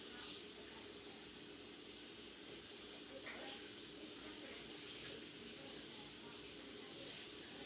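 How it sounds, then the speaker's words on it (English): A kitchen tap runs steadily as hands are washed under it: a continuous hiss of spraying water, fairly quiet, with small splashy fluctuations and no pauses. "I need this towel to wash my hands really quickly."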